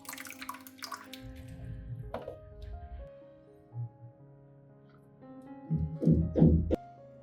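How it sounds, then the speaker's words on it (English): Water trickles and splashes in short bursts onto a potted orchid's growing medium, close by, with quiet gaps between pours and a few drips. "water slowly until the growing medium is evenly moist"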